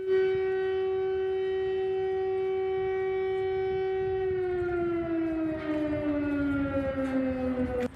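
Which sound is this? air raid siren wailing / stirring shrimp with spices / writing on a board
air raid siren wailing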